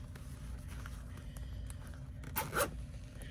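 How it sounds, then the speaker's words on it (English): A zipper is pulled shut on a fabric crossbody bag made in an embroidery hoop. It gives one quick, close rasping run near the end, after a quiet stretch of faint handling noise. "you'll be able to tell when you close the zipper"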